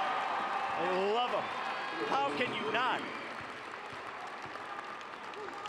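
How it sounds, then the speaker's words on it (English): Fans in a college basketball arena during a men's game cheer and clap, a broad roar of crowd noise under excited commentary that fades slightly toward the end. "listen to this crowd"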